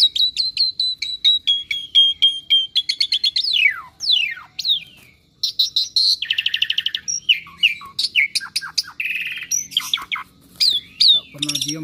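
A tame Asian pied starling (jalak suren) chatters almost without pause, loud and close, mixing repeated high whistles, rapid chirp bursts, sliding notes and harsh buzzy phrases in a long varied stream of song.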